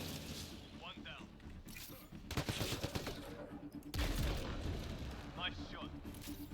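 Bursts of gunfire in the sci-fi shooter Mass Effect: Andromeda crackle in short volleys amid combat, with a heavy boom partway through and people talking over the fighting.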